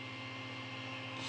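A power inverter on a portable solar power station gives a steady electrical hum with a faint hiss, holding constant through the short stretch, with no other sounds.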